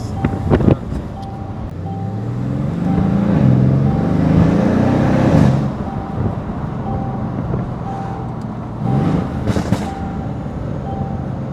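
A Mercedes C63S with over 600 horsepower, rebuilt after a crash, drives with a deep engine rumble and wind rush, broken by a few sharp exhaust pops and crackles.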